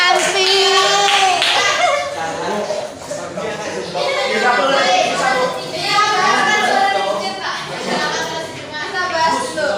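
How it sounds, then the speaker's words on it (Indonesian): A classroom of students claps for three classmates who succeeded, with scattered hand claps under lively children's chatter and voices throughout. "Kita kasih tepuk tangan dulu untuk 3 teman kita yang berhasil."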